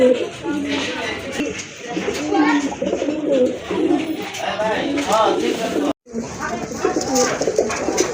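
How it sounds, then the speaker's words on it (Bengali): Large Gopalganj pigeons coo repeatedly at close range, deep rolling calls overlapping through the whole stretch with a brief dropout near the end; no one speaks. "আরেক জোড়া কবুতর, বড় পায়রা কবুতর, গোপালগঞ্জের বড় পায়রা কবুতর"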